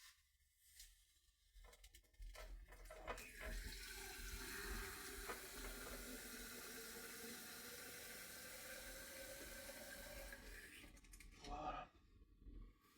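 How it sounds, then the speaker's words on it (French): Tap water runs steadily into a carafe at home for several seconds, a broad rushing pour that rises slightly in pitch as the vessel fills, then cuts off with a few faint clinks near the end. "Je vais me mettre de l'eau dans la carafe."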